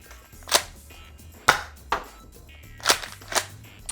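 A Nerf Remington 870 toy shotgun firing Worker Gen 3 darts, five sharp snapping pops at uneven intervals against a quiet room, with no talk.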